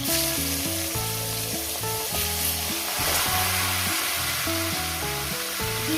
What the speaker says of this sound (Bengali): চিকেনটাকে দিয়ে এবার এটাকে ভাজবো।